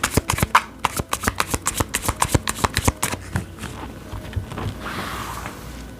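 Tarot cards riffled and shuffled in a rapid run of crisp, close flicks and snaps, slowing into a softer sliding rustle as cards are drawn, with no talk.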